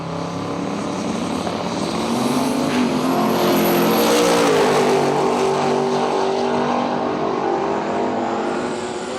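Drag racing cars at Willowbank Raceway in Australia make a loud, sustained engine roar that swells and shifts in pitch as they run down the strip, with no talking heard.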